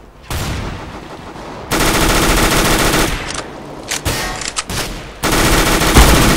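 Rapid automatic gunfire from the video game Counter-Strike: Global Offensive comes in loud, dense bursts with brief gaps between them, close and dominant, with no talk.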